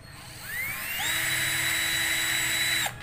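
A cordless power drill spun up at its top speed setting, 18, rising in a quick whine to a steady high-pitched buzz for about two seconds before cutting off, close and alone.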